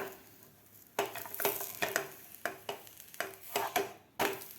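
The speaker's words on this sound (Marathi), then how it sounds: "आपल्याला हे दोन्ही साईडकडून व्यवस्थित पराठा भाजून घ्यायचा आहे आता आपण पलटी करून घेऊया" Aloo sabudana paratha roasting on a hot griddle, heard as a series of sharp spatula taps and scrapes with a faint sizzle between them, close by and uneven in rhythm.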